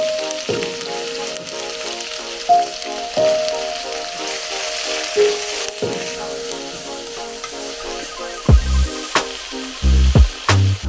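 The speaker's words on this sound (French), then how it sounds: "Et vous allez d'abord faire griller votre viande" Meat and onions frying in oil in a pan on a hob, a steady close sizzle with occasional louder stirring scrapes and clatters toward the end, no talk.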